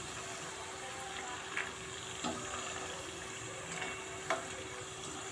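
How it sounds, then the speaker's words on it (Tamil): Thattai rice crackers frying in hot oil: a soft, steady sizzling hiss with a few faint crackling pops, quiet and close, with no voices. "இப்போ அதோட சவுண்டு குறைஞ்சதும், சலசலப்பு குறைஞ்சதும் எடுத்துடலாங்க"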